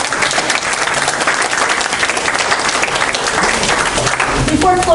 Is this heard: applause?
yes